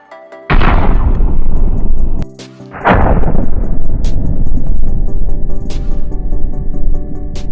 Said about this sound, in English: first have a look at these two explosions